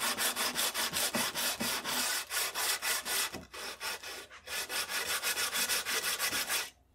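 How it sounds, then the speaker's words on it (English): A sanding block rubs back and forth over a wooden military rifle stock, giving loud rhythmic rasping strokes about twice a second, with a short pause midway. "I'll repeat the same rough finishing process that I used on the front end, starting with the sanding block."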